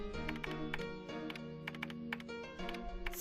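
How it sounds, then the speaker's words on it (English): Typing on a computer keyboard in the Mega Man X6 video game, fast, irregular key clicks over steady background music, faint and continuous throughout. "And she's typing on the computer the whole time."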